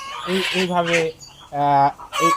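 A chicken held for home beak trimming gives loud, close, strained clucks and squawks in three or four harmonic bursts, with short pauses between.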